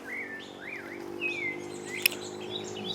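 Around 6 a.m. in Honduras, birds chirp and trill in a series of rising and falling whistled calls over a quiet, low background hum, with one sharp click partway through.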